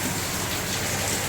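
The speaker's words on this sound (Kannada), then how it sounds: "ಫುಲ್ ಮಳೆ ಬರ್ತಾ ಉಂಟು" Heavy rain pours down in a dense, unbroken hiss, loud and constant throughout.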